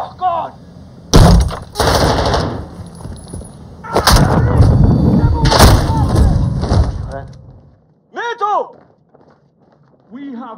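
A detonation in the video game Modern Warfare 2 booms through loud, broad bursts with rumbling tails, followed by a quieter pause and some short tonal game sounds.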